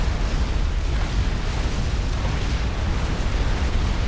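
Explosions of destroyed structures in a Supreme Commander 2 battle roll on continuously as a dense, loud, rumbling barrage of booms with no pauses.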